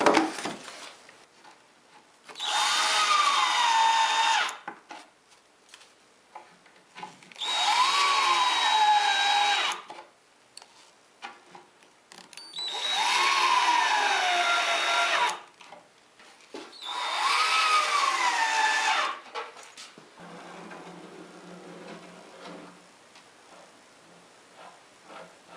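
A power drill drives short screws into thin material for a workshop cabinet, with four sustained whirring bursts of a few seconds each, each rising and falling in pitch and separated by quiet pauses, loud and close.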